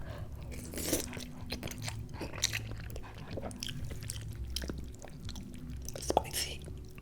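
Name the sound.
eating spicy garlic chili noodles, chewing and slurping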